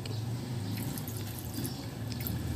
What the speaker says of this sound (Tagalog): Ilagay ko lang din yan sa kaldero at lagyan ng tubig.